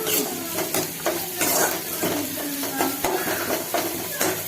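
Garlic sautés in a pan for Tamil-style quail fry, giving a loud continuous sizzle with rhythmic scraping and clinking of a spoon against the pan, close and busy throughout.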